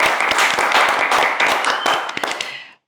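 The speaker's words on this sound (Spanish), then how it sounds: "Entonces, un aplauso para" A studio audience claps on a talk programme, a loud burst of applause with distinct close hand claps over the crowd, which tapers off and stops abruptly near the end.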